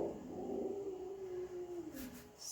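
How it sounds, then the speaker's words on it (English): A pet dog howls indoors, a single long, sustained and wavering note that slowly drops in pitch, fairly quiet and heard alone. "Sorry, my dog now is howling."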